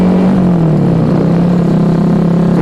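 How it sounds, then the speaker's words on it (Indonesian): A Yamaha R15 V3 motorcycle fitted with a cheap aftermarket exhaust, idling or revving steadily with a loud, close, continuous droning rumble and no talking. "Kalau buat suara, ini knalpot murah yang ternyata kualitasnya pokoknya dah gitu aja"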